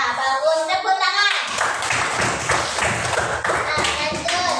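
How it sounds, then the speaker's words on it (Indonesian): Students clap in a classroom, a burst of quick, uneven hand claps from a group that starts after a short spoken bit and carries on steadily to the end. "Tepuk tangan."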